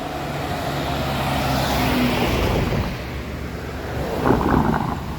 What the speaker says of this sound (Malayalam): നല്ല തിരക്കേറിയ പാതയാണ് കേട്ടോ എരുമേലി പമ്പ റൂട്ട് എപ്പോഴും കണ്ടിന്യൂസ് ആയിട്ട് വണ്ടികൾ ഇങ്ങനെ വന്നുകൊണ്ടിരിക്കും